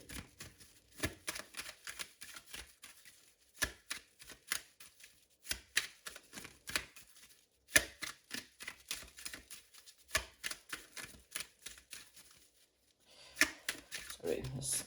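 Tarot cards being shuffled by hand, a run of quick papery riffles and soft slaps that stop and start, close and moderately quiet, with occasional speech nearby.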